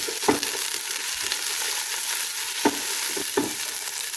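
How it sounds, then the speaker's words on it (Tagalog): Carrots and onions frying in a pan for a salmon curry, a steady close sizzle with occasional scrapes and stirring knocks from a utensil, no voices. "Ilagay na rin natin ang ating sibuyas."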